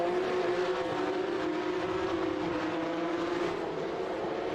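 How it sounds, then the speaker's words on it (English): Race car engines in the iRacing sim, Radical SR8 and Porsche Cup cars, hold a steady loud droning note with a sustained harmonic whine and no talk. "Awesome engine note from the cars as well."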